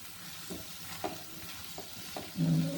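Soft sizzling from tomatoes sautéing in a pan with a few scraping stirs, then a louder burst of frying near the end.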